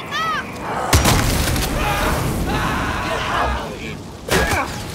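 Loud gunfire and explosion booms from the video game Far Cry 6 during a co-op fight, with sharp blasts near the start, around one second and again near the end over a dense, continuous battle din.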